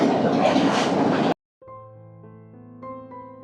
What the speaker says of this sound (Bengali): ট্রেনটা ঠিক কতটুকু স্পিডে আছে দেখেন